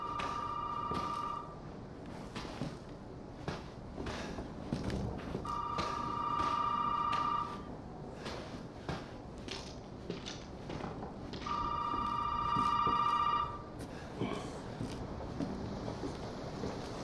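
A telephone in Resident Evil 7 rings in three long, shrill electronic bursts about six seconds apart, sounding moderately near over creaking and shuffling footsteps in a quiet, tense room.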